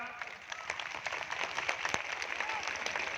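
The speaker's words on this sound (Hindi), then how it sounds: "जोरदार ताली बजा के अंदर स्वागत करा" A crowd applauds at a statue unveiling with dense, steady clapping at a moderate distance, with no voices standing out.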